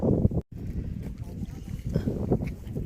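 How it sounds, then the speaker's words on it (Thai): Strong, cold wind blows at an open headland on the edge of the land in Norway, a steady low rushing roar buffeting the microphone, with a brief drop out early and someone talking over it. "แต่ตรงนี้ลมแรงนะคะ เย็น"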